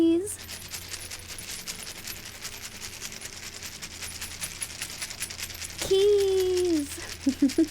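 Keys are jangled close for ASMR, a steady dense shimmer of small metallic clinks running throughout, with a brief stretch of a voice near the end.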